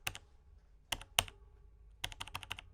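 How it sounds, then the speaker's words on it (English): Keys struck on a Logitech G613 wireless gaming keyboard, short bursts of crisp clicks with faint spring rattle, single presses then a quicker cluster, close and alone in a quiet room. "If you listen closely, you can also hear the springs inside the keys"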